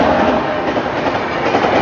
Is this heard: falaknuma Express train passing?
yes